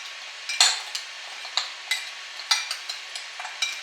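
Ingredients, including garlic, being mixed in a pan with oil: a series of about a dozen close, sharp clinks and scrapes of a utensil against the pan at an uneven rhythm, over faint sizzling, with no voices.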